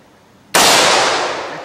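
A gunshot fired at a hard drive outdoors, a single sudden loud crack that rings out and fades slowly, with no talk.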